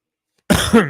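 A single sharp cough bursts out after a moment of silence, close and loud, with a rough, throaty tail.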